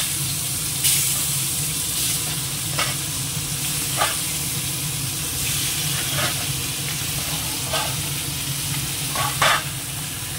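Fish frying in hot oil with dried red chilli and cumin makes a loud, continuous close sizzle, broken by a handful of brief clicks and scrapes from a spatula or pan, with no voices.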